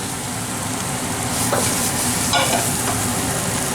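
Vegetables with broccoli, mushrooms and tofu stir-frying in a pan, a loud, steady sizzle with continuous stirring and a few scraping strokes, no talking.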